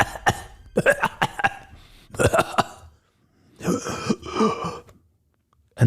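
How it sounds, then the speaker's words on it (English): A man coughs repeatedly in harsh, rasping fits, with short silent gaps between bursts and a final wheezy cough at the end. "Suddenly the dad begins to cough."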